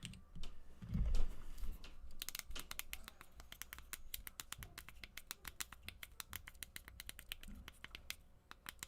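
Rapid clicky typing on a small Pocket PC keyboard, a dense run of sharp keystrokes close to the microphone for several seconds, with a brief soft murmur of speech near the start.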